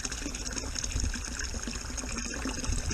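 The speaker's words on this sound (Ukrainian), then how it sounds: "Джерельна водичка." Mountain spring water trickling and splashing close by, a dense continuous gurgle of flowing water with no pauses and no voices.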